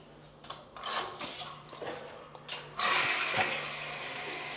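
A hotel bathroom shower starts up after a few clicks and handling noises, then gushes strongly and steadily, close and loud, with no talking over it.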